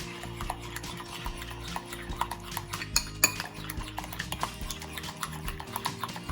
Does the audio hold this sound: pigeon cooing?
no